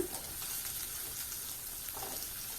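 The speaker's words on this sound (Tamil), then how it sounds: "எண்ணெய் காஞ்சதுக்கப்புறம் அந்த இரநூறு கிராம் வரைக்கும் வச்சுருந்த சின்ன வெங்காயத்தை இது போல் அலசிட்டு சேர்த்துக்கோங்க" Small onions, shallots weighing about 200 grams, drop into hot oil for a goat mutton curry and fry with a soft, steady sizzle, faint and even throughout, no voices.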